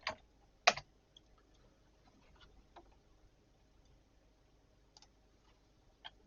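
A few sparse, quiet keystrokes on a computer keyboard, scattered single clicks with long gaps between them, as a short command is entered.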